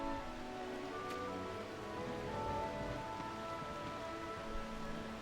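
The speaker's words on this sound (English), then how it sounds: "Why must it rain so heavily?" Heavy rain pours in War of the Visions: Final Fantasy Brave Exvius as a steady, dense wash of hiss, fairly soft and unbroken, with no voices over it.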